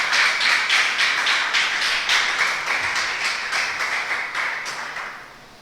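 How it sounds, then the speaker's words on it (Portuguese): A church congregation applauds together, a steady, dense patter of many hands clapping close by with rhythmic surges, fading slightly toward the end. "Você pode aplaudir a Jesus Cristo?"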